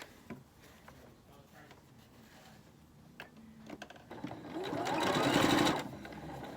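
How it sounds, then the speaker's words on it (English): A sewing machine stitches along both sides of a seam on a fabric face mask, a soft ticking start building into a loud, fast whirring run near the end. "I'm going to sew on each side of the seam"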